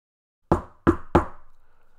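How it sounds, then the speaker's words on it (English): Three sharp knocks land on a cottage door in a fairy-tale setting, the last two quicker, each ringing briefly before fading into near silence. "there's a knock at the door to Doc's cottage"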